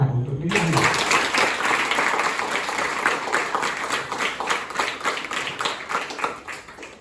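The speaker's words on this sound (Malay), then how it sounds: "Beri tepukan untuk diri anda." A crowd at a school uniformed-units camp at Kem Alapung breaks into sustained applause, a dense wash of many hands clapping that slowly fades toward the end.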